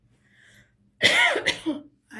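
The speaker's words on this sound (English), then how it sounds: "Occasionally you will hear me coughing and hacking." A person coughs once harshly, a loud close hacking burst with a rough follow-up, after near silence.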